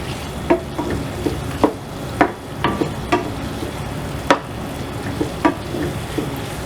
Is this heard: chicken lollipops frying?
yes